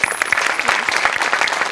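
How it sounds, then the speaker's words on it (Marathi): Huge applause rings out from the studio audience of a Marathi comedy show, brisk steady clapping from a crowd, loud and continuous throughout. "मोठ्यांसाठी पण प्रचंड टाळ्या."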